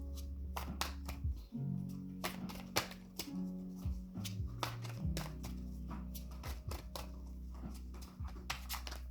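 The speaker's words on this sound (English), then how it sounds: "I cannot shuffle today" Cards being shuffled and riffled in quick bursts of crisp flapping, close up, with soft tapping between bursts and no talking.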